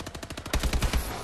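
Rapid automatic gunfire in an online shooter video game, a quick rattling burst of evenly spaced shots that grows louder and heavier midway, with music faintly underneath.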